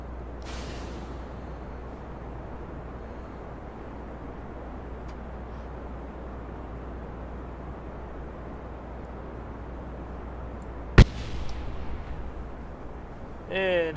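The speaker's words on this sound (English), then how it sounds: "And explosions." A multi-booster rocket launches in the Kerbal Space Program 3 video game with a steady, loud roaring rumble throughout, broken near the end by one sharp explosive bang and a brief burst of crackling.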